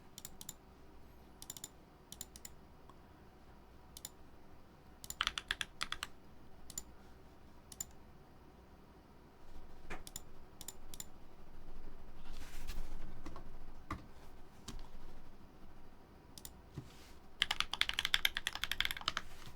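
Someone types on an HHKB-style computer keyboard, with irregular close key clicks in scattered bursts and denser runs of rapid keystrokes.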